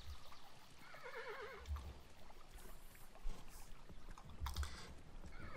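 Horse neighing in the video game Kingdom, a wavering whinny early on set under a steady bed of ambient game noise and soft clatter, with no speech.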